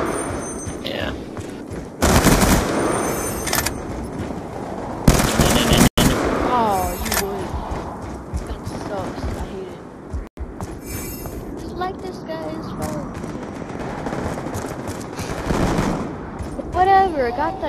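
Rapid bursts of automatic gunfire from a gun game style shooter, loud bursts around the second, fifth and sixteenth seconds with continuous game noise and frequent talking throughout.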